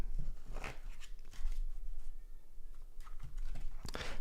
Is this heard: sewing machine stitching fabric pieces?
no